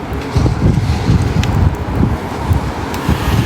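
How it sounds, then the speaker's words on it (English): Strong wind roars down a street at night during a Portland protest, a loud, steady rumble with gusty surges and microphone buffeting throughout and no talking. "It's a nice windy night"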